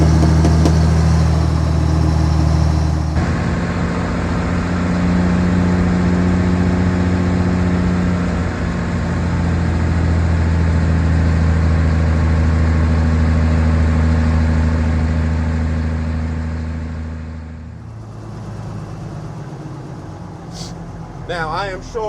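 A 1957 Mack B61 twin-stick truck's engine runs loud and steady at close range, a deep rumbling idle that shifts in tone around a gear change before dropping off near the end, with a brief voice at the start.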